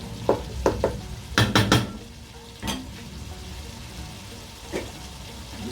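Fish pieces go into a pan of cooked yogurt curry, giving a steady low sizzle with several sharp clinks and scrapes of utensil on pan, clustered early and then scattered, close and fairly loud.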